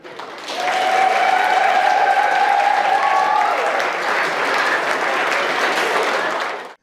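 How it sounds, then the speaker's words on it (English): Wedding guests stand clapping and cheering as the couple walks in, a loud, dense wave of applause from a close crowd with whoops and a whistle-like cheer, sustained for several seconds before cutting off. "everything will peak because they're all standing up, clapping and cheering"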